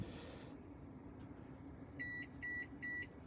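Microwave oven running off an Inergy Apex portable power station in a Sprinter van conversion, giving three short electronic beeps in even succession over a steady low hum.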